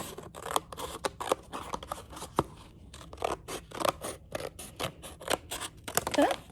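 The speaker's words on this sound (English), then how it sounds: "we're going to take our paper plate and we're gonna cut it in half" Scissors snip through a paper plate to cut it in half, a rapid series of crisp, close cuts and rustles repeating irregularly throughout.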